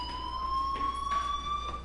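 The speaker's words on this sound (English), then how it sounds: "do you hear that fire alarm?" A steady electronic fire alarm tone rings continuously in the Life is Strange video game, a clear sustained pitch with faint overtones, moderately loud and alone without talk.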